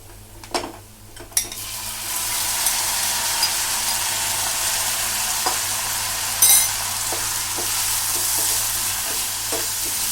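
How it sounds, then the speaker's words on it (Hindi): Cut cauliflower and potatoes are stirred into lightly browned onions in a hot pan, giving a steady sizzle with a few scraping and clattering spoon knocks against the pan. "अब जो ये मैंने गोभी और आलू इस तरह से काट के धो के रखे हैं, इसको मैं मिला दूंगी इसमें।"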